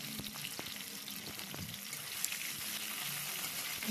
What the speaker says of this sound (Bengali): টমেটোগুলোকে দেওয়ার পরে একটু ভালো করে আবার নেড়ে নেব।